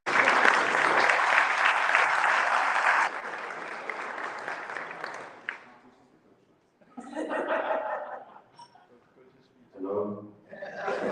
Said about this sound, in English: Let's give Busi a round of applause.